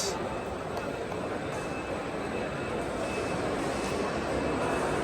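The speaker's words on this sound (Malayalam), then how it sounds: "നമ്മൾ കൊച്ചി എയർപോർട്ടിലൂടെ നടന്നുകൊണ്ടിരിക്കുക" Steady broad hum of Kochi airport terminal ambience while walking through toward the gate, with a faint continuous whine and muffled background activity, no distinct footsteps standing out.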